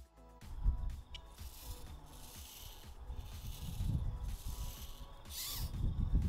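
The small servos of a Petoi Bittle robot dog run a look-around routine, producing faint, uneven whirring and ratcheting bursts that rise and fall in short groups, close by and with no voices.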